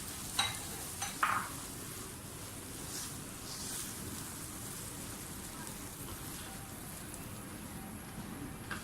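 Tomato paste goes into spices frying in oil for masala bhindi (spiced okra). A few brief clatters open the clip, then a steady, close sizzle of frying carries on alone with no talking.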